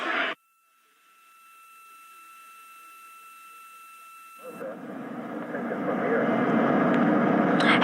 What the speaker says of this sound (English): we are seeing the helicopters circling Orion.